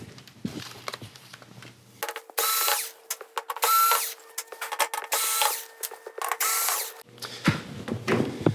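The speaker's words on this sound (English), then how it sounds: "all we've got to do is take out these 4 screws" Screws are driven out of the back of a Samsung UN58J5190AF TV with a power driver. Several bursts of whirring and ratcheting are separated by quieter handling clicks and rustles, all close by.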